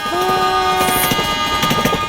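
A loud train rumbles close by with a rhythmic clatter of wheels on rails, a sustained horn tone sounding at the start.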